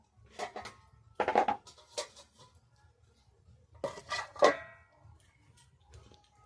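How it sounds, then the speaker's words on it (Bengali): Metal lid set onto a cooking pot of thin rohu fish curry with yam and potato: a few separate clinks and rattles in two clusters, close by, with quiet gaps between and no talking. "এবারে আমি ঢাকনা দিয়ে দেবো"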